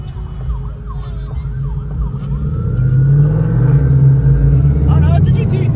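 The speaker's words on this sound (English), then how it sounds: "Oh, those are sirens." Wailing sirens rise and fall in the distance, then grow louder over the engine rumble of a 2024 Ford Mustang GT, with people talking inside the car.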